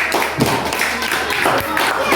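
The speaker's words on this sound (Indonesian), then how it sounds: "Berikan tepuk tangan kepada kelompok 5." Classroom students clapping for a presenting group, a dense, loud burst of close applause filling the short moment.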